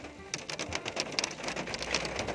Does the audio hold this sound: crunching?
no